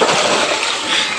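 Water gushing loudly and steadily from an electric motor pump, a continuous close rush of splashing flow with no voices.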